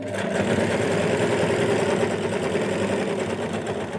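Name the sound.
sewing machine stitching nighty pocket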